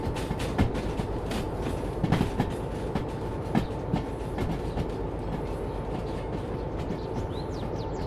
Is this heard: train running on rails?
yes